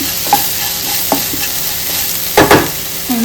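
Squid (bondas) sukka frying in a pan, with a soft steady sizzle under several distinct scraping and clattering strokes of a spoon stirring the pieces, close and fairly loud.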